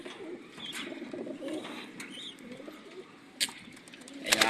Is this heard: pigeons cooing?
yes